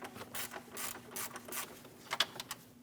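A ratchet wrench with a 10mm socket clicks in short bursts of rapid pawl ticks while loosening a bolt beside a lower radiator hose on a 2016 Scion iA, close-up against a faint steady hum.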